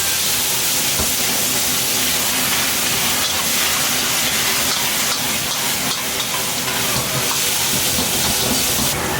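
Ginger, scallion, garlic and pickled cabbage hit hot oil in a wok over high heat, producing a loud, unbroken hiss and sizzle that holds steady throughout, with no voices.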